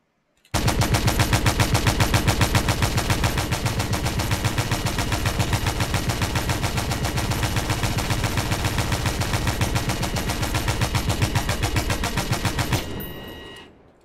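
Rapid automatic gunfire in the video game Stormworks, testing ammo types on drums: a sustained, loud burst of evenly spaced shots running without pause for about twelve seconds before cutting off.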